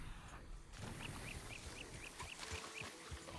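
A small bird in Red Dead Redemption 2 Online chirps in a steady series of short, high calls, about seven in a row, over a quiet ambient background.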